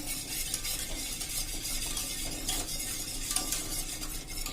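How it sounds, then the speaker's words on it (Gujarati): Milk thickened with cornflour stirred continuously in a pot while making homemade cheese: a steady close scraping and swishing with faint bubbling and occasional light clinks, no talking. "હવે આ આપણે હલાવતા વચ્ચે હલાવતા જ રહેવાનું"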